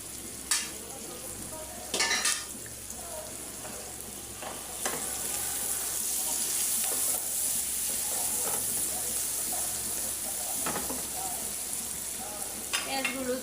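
Onions and spices sizzle steadily in a pan with a soft continuous hiss, broken by occasional scraping stirs, close and moderately quiet with no talk.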